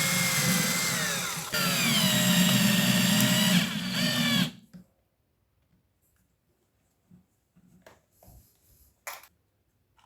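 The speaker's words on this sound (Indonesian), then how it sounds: "Kita bor lagi menggunakan mata bor yang kecil supaya nanti skrupnya bisa masuk." A power drill fitted with a small bit whirs loudly for about four seconds with a brief dip in pitch, then stops, leaving faint scattered clicks and handling noises.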